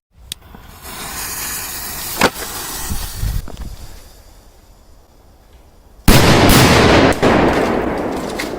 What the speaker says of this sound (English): Let's find a firecracker that will explode this vacuum cleaner.